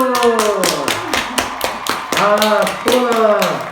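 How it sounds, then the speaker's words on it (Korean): Audience clapping at a church youth leaders' gospel basics class, a run of sharp hand claps close by, mixed with voices talking over them. "박수!"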